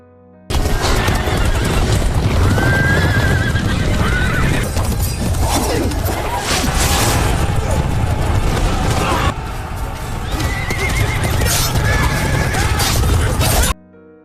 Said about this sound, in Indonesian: lalu melepaskan seluruh kuda milik suku Hun